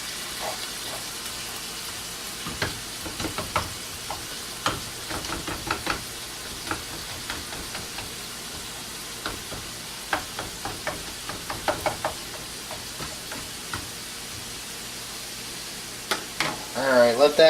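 Ground meat for chili sizzling in a pan, a low steady fry under scattered knocks and scrapes of a utensil against the pan, growing busier toward the end.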